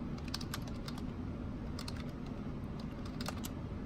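Typing commands on a computer keyboard to set up a Jetson for a joystick-controlled RC car: quick irregular key clicks in short bursts over a steady low hum.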